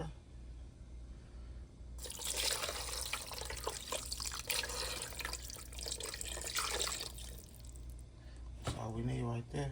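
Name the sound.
water being added while cooking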